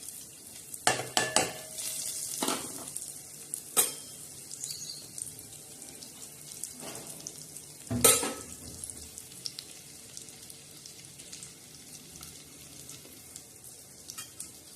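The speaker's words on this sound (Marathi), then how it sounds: "आता आपण हे लालसर असे भाजून घेणार आहोत लय काळे करायचे नाही जाळायचे नाही" Cashews, almonds and grated coconut roasting in a pan for rice kheer, a quiet background crackle broken by several sharp spatula scrapes and clinks against the pan.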